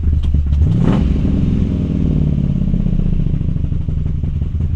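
A street rod's engine idles steadily at about 1,000 rpm after tuning, a loud, close, continuous low rumble with a brief rise near the start, heard alone without talk.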